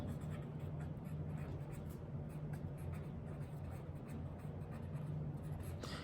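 Chalk or marker writing on a classroom board during a maths lesson, a steady scratchy scraping that runs continuously throughout over a constant low background hum, with no speech.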